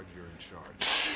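After a short line of game dialogue, a person lets out one sharp, close, hissing sneeze that lasts under half a second.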